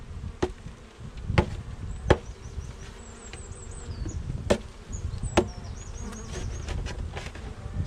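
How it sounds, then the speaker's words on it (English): Honeybees buzz steadily around an open hive during beekeeping, with several sharp knocks and taps of equipment at close range, while high chirping birdsong carries in the background. "And I've not seen an angry bee yet"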